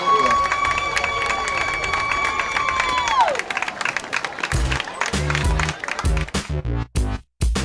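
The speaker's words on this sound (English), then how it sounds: "Let's give these seniors and their parents one final round of applause." Crowd at a high school football game between the Baldwin Bulldogs and Bishop Ward Cyclones, honoring seniors with applause and cheering. Loud, continuous clapping and cheering follow a long sustained horn-like tone, building into dense, irregular bursts of noise.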